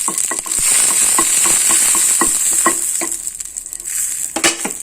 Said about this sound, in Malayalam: ഓക്കെ നമുക്ക് മുളക് ഒന്ന് വറുത്തെടുക്കാം